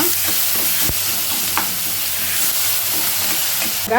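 Fresh clams fry in a hot pan, giving a loud, steady sizzle and hiss, with occasional scraping stirs and clinks of a spoon against the pan.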